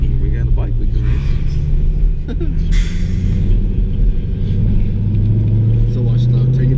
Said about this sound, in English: roll through the gears. And you can just hear that supercharger whine